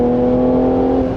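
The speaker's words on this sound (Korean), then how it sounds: "이런 특색 있는 엔진음이거든요" A Mercedes-AMG GLC 4Matic high-performance compact SUV engine drones loud and steady from close by, a sustained tonal growl holding one pitch through the whole short stretch with no voices.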